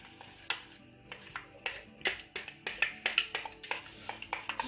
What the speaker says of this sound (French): Je vais bien mélanger donc le liquide vaisselle sans la pomme.